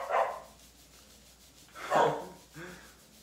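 A dog barks three times nearby, in sharp separate bursts with short pauses between them.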